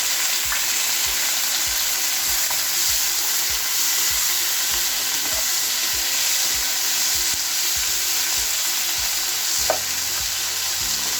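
Chopped tomatoes fry and sizzle in a pan for chole masala, with a steady close hiss, occasional stirring scrapes throughout, and no talking.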